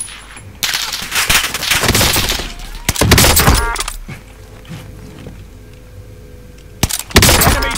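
Rapid bursts of automatic gunfire from Call of Duty Warzone on the Caldera map, loud and close, with dense volleys separated by short lulls and a final burst near the end.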